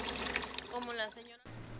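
Water is poured out during a water shortage in Saltillo, a brief splashing trickle heard faintly beneath a person talking.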